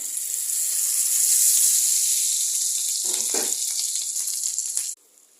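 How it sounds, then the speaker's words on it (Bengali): Fish roe drops into hot oil and sizzles loudly for a few seconds, a bright continuous frying hiss with a brief stir midway, then cuts off abruptly near the end. "এখন আমি দিয়ে দিছি তেলে।"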